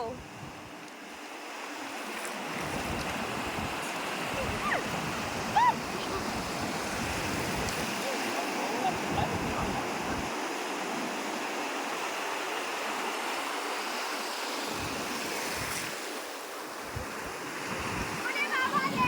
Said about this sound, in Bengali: এই বড় ঢেউ আসছে, বড়।